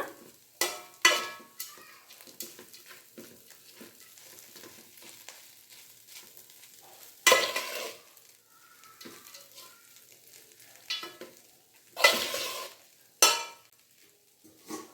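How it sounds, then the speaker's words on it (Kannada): A spatula scrapes and stirs poha chitranna in a frying pan, with irregular clinks and scrapes over a faint sizzle and a few sharper louder strokes, no talking. "ಈಗ ಚೆನ್ನಾಗಿ ಮಿಕ್ಸ್ ಮಾಡೋಣ"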